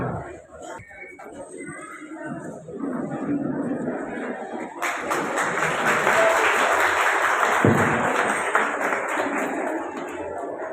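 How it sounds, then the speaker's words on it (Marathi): Audience applause at an inauguration function organised by a foundation, where a portrait of Helen Keller is garlanded. Quiet murmuring gives way to loud, sustained clapping from the crowd for the second half. "सर्वांनी परत एकदा जोरदार टाळ्यांचा गजर करायचा आहे"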